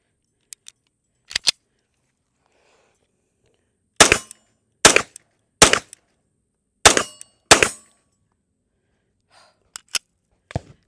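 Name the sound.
gunshots from Taurus PT92 AFD 9mm pistol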